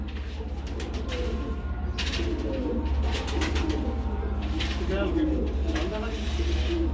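Lahori Badshah pigeons coo repeatedly on a rooftop in Rawalpindi, soft low rolling calls under a constant low hum, with people talking nearby over them.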